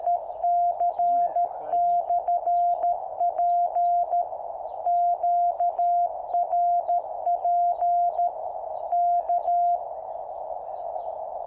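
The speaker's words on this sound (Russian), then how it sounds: "О, смотрите, крутит из памяти общий вызов и крутит." A QCX mini transceiver repeatedly sends a CW general call (CQ) from memory, a single clean, steady tone keyed on and off in rapid Morse dots and dashes, loud and alone against a quiet background.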